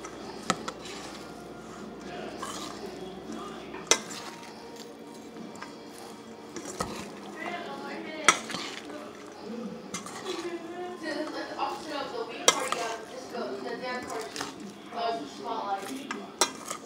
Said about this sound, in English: So now we are just going to mix